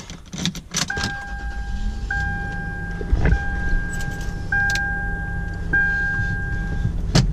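Cabin of a lifted Toyota 4Runner Sport on a test drive: a steady low engine and road rumble with a soft repeating chime-like tone and occasional clicks and bumps, continuous and close, with no talking.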